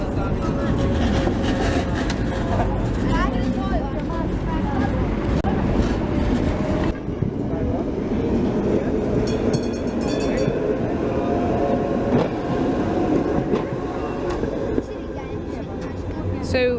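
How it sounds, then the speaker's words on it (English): A Prague tram on route 19 rolls past over interlocking tracks, a steady loud rumble with rail clatter that carries through the whole stretch, with voices underneath at times. "And there is a tram now."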